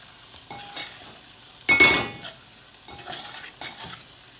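Spice masala cooking in a pan with a spoonful of gram flour for an eggplant dish, stirred with a utensil: soft scraping and sizzling come in separate bursts, with one louder clattering stir near the middle.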